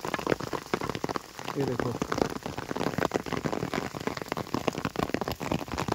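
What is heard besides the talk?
hail falling on an umbrella in the Rudranath jungle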